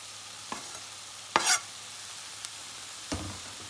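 Garlic, hot pepper, green onions and carrots fry in a pan with a steady low sizzle. A few sharp utensil clinks and scrapes punctuate it, including one louder stir in the middle.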